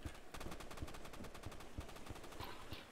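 Rapid gunfire in the game Banana Shooter, a fast regular burst of automatic shots with a few heavier blasts mixed in, continuous and fairly faint.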